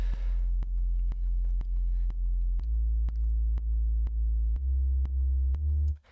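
Synth sub bass patch built from a couple of sine waves, playing a sequence of deep, clean, sustained notes with short breaks between them, each note stepping to a new pitch before a sudden cut-off at the end.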